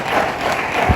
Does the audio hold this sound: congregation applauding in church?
yes